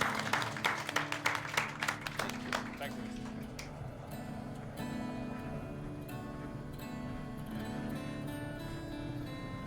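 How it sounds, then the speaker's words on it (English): A small group applauds in short bursts of clapping at the start, fading into a quieter room ambience with faint background sound. "So I will give a big applause to Philip and to all of us involved in this"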